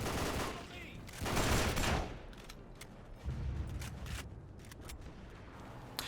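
Gunfire in a World War II shooter, with bursts of automatic fire and scattered single shots, some loud and close, others fainter, against a low background.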